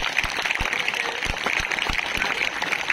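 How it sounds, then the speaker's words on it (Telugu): Scattered clapping from a crowd at a school kit distribution event in Bendapudi, a busy patter with a few heavier thumps, heard at moderate volume against a noisy background. "క్లాప్స్ కొట్టండి"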